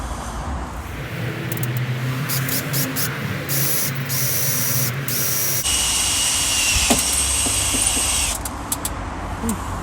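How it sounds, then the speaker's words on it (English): A power drill bores through the metal body of a VW T5.1 van, first a 5mm pilot hole and then a 12mm one, loud high-pitched grinding bursts that start and stop, with a voice speaking briefly. "we're going to drill a 5mm hole just as a pilot hole to start with, and then open it up to 12mm"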